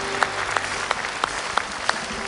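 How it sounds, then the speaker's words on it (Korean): Church congregation applause during a Korean worship service, dense and continuous clapping from the whole room with a few sharper claps standing out. "우리를 구원하시는 주님께 영광의 박수를."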